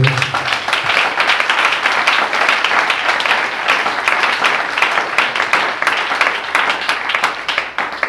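A church congregation at a French-language worship service breaks into sustained, dense applause, loud and close, with many hands clapping at once for several seconds.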